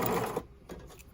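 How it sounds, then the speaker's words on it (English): Short burst of a sewing machine running a multi-step zigzag stitch to attach elastic onto a lace bralette, a quick mechanical whir that stops abruptly, close and faint. "using a multi-step zigzag stitch, if your machine does it"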